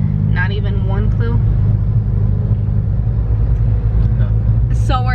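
Steady low road rumble and engine hum inside a moving car fill the cabin throughout, while people talk over it.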